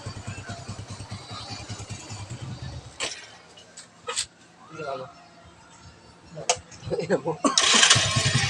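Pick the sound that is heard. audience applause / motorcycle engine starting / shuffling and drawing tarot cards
motorcycle engine starting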